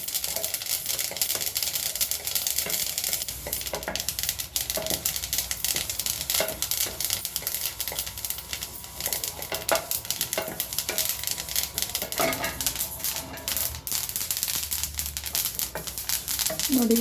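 Flax seeds stirred and roasted in a pan on a low flame make a continuous dry rustle and crackle with scraping strokes throughout, and speech is faintly present at times.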